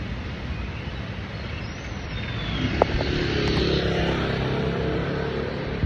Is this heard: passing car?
yes